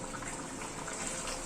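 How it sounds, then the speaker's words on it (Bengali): Bhetki fish pieces simmer in a curry broth, giving a soft, steady bubbling hiss that stays even and close throughout, with no voices. "মাছটা দিয়ে মিনিট 2 মতো একটুখানি ফুটিয়ে নিই।"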